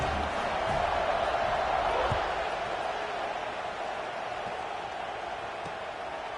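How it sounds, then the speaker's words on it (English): Stadium crowd in the NCAA 25 football video game, Wake Forest vs NC State, a steady loud roaring murmur of spectators after a score, continuous and broad with no distinct voices standing out. "this crowd is buzzing after that last score"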